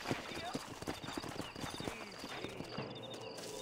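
Horses clip-clopping at a steady gallop in Red Dead Redemption, their hooves drumming in a dense rhythmic patter. Hoof beats carry throughout under game ambience and sound effects.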